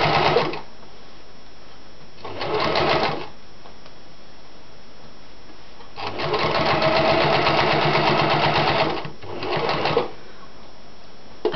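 A sewing machine stitches fabric for a pin cushion in several separate bursts, short runs and one longer stretch of rapid mechanical whirring, with quiet pauses between them.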